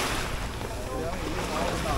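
A boat under way off Phi Phi Island, Thailand, with strong wind buffeting the microphone and a steady rush of engine and water noise throughout.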